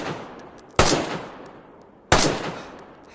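Two loud, sharp gunshots from a player's gun in the video game DayZ, spaced about a second and a half apart, each with a decaying tail and no talk over them.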